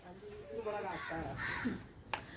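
Crows cawing outdoors near a poultry coop: a few rough caws at middle distance mixed with a voice speaking, followed by a short sharp knock.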